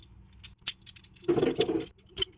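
Small metal balls clink and tick as they are fitted by hand into a BMW E30/E36 CV axle joint being rebuilt without grease, a few sharp close clicks and one longer scraping rattle of steel parts.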